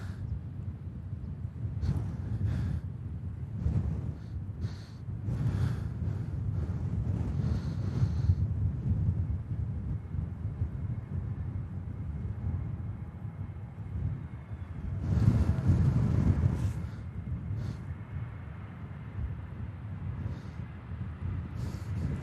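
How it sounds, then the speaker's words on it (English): Strong wind during Storm Bram roars and buffets the microphone in continuous gusts at Manchester Airport, swelling louder around the middle, with no voices. "All I can hear is wind up here. It is very windy indeed."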